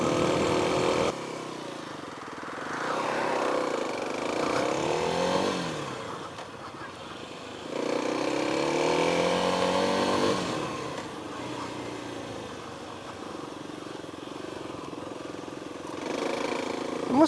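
A Kawasaki KLX300 dirt bike on an off-road ride, its engine revving up and easing off in repeated surges over rough ground, close and fairly loud, with rising and falling pitch through gear changes.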